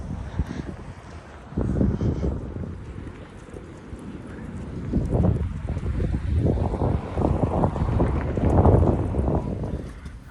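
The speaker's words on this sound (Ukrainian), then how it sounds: "Трошки вітерець є, але це не страшно." Light wind blows steadily across an open-air bazaar in Kryvyi Rih's Sotsgorod district. Rumbling gusts buffet the microphone continuously, swelling and easing throughout, with no speech.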